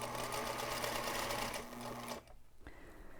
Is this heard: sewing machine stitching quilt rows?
yes